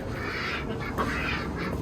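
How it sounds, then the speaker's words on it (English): Backyard ducks and chickens at sunset give faint quacks and clucks through a steady wash of outdoor noise. No one speaks. "Here you got ducks and 1, 2, 3, 4 chickens"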